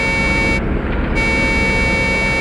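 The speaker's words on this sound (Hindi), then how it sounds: "ये हॉर्न नहीं, सिग्नल है।" A loud, sustained horn-like signal tone sounds in a forest, holding steadily and dominating the scene with a faint rumble underneath.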